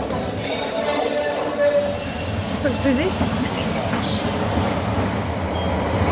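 A London Underground Central line train rumbles and hums as it pulls away, with a rising whine from the motors and a brief squeal of wheels; a voice speaks briefly over it.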